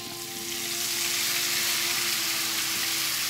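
Garlic frying in melted butter in a pan, a steady close hiss and crackle that swells slightly as it settles into a continuous sizzle, with no talking.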